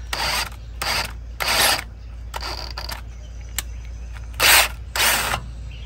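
A thread tap cutting through a stripped bolt hole in metal, worked in short bursts of grinding, ratcheting scrapes separated by pauses, close and fairly loud over a low steady hum.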